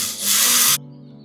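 A dull drill bit bores through a wooden plank resting on scrap wood, a loud harsh grinding rasp that swells and holds, then stops abruptly, leaving a faint low hum.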